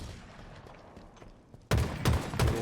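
A grenade detonates in a Halo Rec League match, arriving as a sudden loud burst after quiet game ambience and followed by a couple more sharp blasts and gunfire-like bangs.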